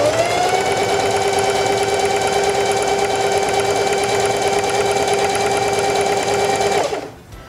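A Heavy Duty 4411 sewing machine stitches fabric on a straight-stitch setting, a loud, steady mechanical whir with a constant motor tone that runs unbroken for about seven seconds, then stops abruptly, leaving silence.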